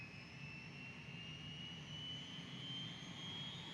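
A UH-1 helicopter's turbine engine spools up in a flight simulator game, a steady low rumble beneath a thin, rising high-pitched whine, quiet and continuous with no voices.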